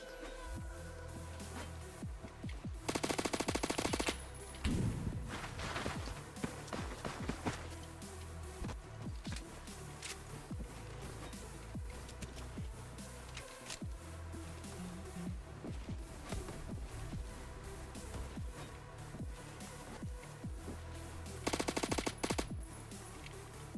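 Rapid gunfire from a Roblox first-person shooter, with several loud bursts of automatic fire, dense shot clusters and clattering impacts throughout, including two especially intense sustained volleys, under no talk.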